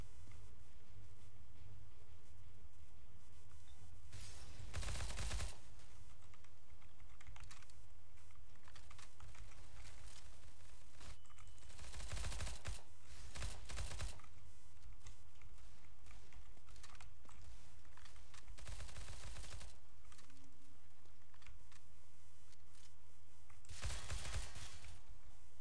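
Short bursts of AUG rifle fire in Counter-Strike: Global Offensive break out a few times, while steady computer keyboard clatter runs underneath the whole stretch.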